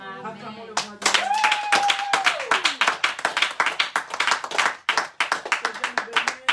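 Church congregation clapping together in a quick, steady rhythm, loud and close, following a short sung or spoken phrase, with voices joining under the claps.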